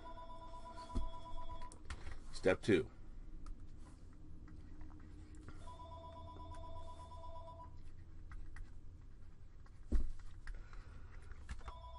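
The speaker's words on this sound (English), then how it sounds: "There's the phone." A telephone rings in a quiet classroom during a college algebra exam review, with a couple of ring bursts separated by pauses, moderately faint with some room noise and a brief spoken word.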